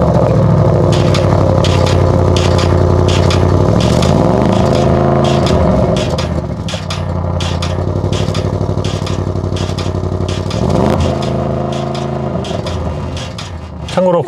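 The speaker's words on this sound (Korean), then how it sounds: "배기음도 그렇게 큰 편은 아니에요." A 2022 Audi RS 6 Avant idles with a low, steady exhaust burble, with a couple of brief revs rising and falling, moderately loud and close.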